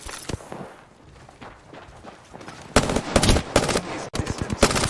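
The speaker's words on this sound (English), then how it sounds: "I'm taking fire. I'm getting shot." Rapid bursts of automatic gunfire crack loudly in a video game firefight, dense volleys following a quieter stretch of scattered shots and thuds.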